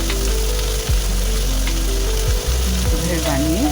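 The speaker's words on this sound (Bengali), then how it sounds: "একটু লাল করে বেগুনগুলো ভেজে তারপরে পেঁয়াজ কলি দিলাম। দিয়ে এবার আমি এটা ভাজছি।" Brinjal and onion stalks fry in a pan with a continuous close sizzle, broken by a few brief scraping stirs.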